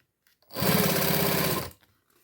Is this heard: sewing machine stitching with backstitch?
yes